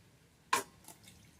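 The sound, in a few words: water while washing chicken meat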